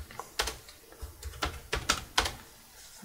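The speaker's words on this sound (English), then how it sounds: "now that we're done, we can type exit" Several sharp key clicks on an ASUS Vivobook X541N laptop keyboard as a short command is typed, about seven distinct taps in an uneven rhythm, close and fairly quiet with no talking.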